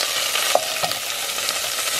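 A carrot sizzling loudly in hot olive oil, a dense continuous crackle up close with a couple of light stirring knocks, and no one speaking.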